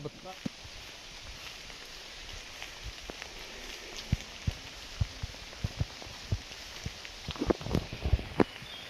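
Footsteps on a wet road in steady rain on the way to the Yana caves: a constant hiss of rainfall, with scattered soft steps and drips growing busier toward the end.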